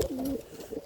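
A single short, low pigeon coo, close and fairly clear, lasting under a second.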